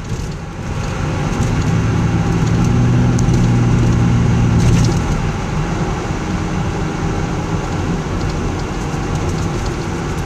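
Steady low road rumble with a humming drone from a moving car suspected of a bad wheel bearing, heading south; the hum stays constant throughout, with no talk.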